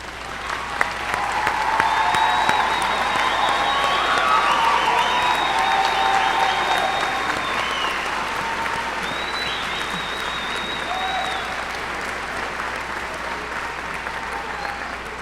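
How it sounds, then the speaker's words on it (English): A large audience at a college commencement applauds award recipients. The clapping swells and holds for many seconds, then gradually thins, with a few cheers and murmurs in the hall. "And let us all please give you a round of applause."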